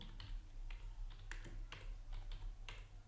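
Computer keyboard typing while entering data into a spreadsheet: a quick run of close, light key clicks in an uneven rhythm over a low steady hum, no voices.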